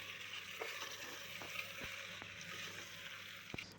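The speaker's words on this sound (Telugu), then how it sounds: "పప్పులు అండ్ డ్రై ఫ్రూట్స్ వేసుకొని మంచిగా మిక్స్ చేసుకోండి" A steady frying sizzle fills the pan as chicken haleem is stirred with soaked lentils and dry fruits, with occasional soft knocks of a spoon against the pot.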